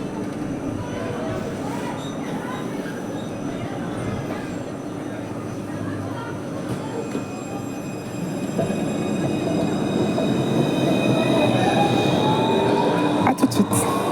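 Tram arriving at Place de France station in Montpellier, a steady rumble under street ambience that grows louder as the car rolls in, with rising wheel squeal and brief clicks near the end.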